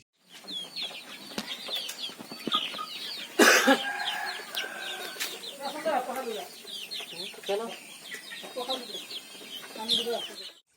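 Local chickens at a native-breed chicken farm in Assam cluck and chatter faintly and continuously, with one sharp, louder burst partway through.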